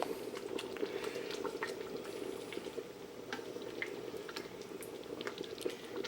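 Thick homemade tomato spaghetti sauce bubbling and spitting in a pot, a steady close simmer with scattered small pops and splutters throughout, no talking.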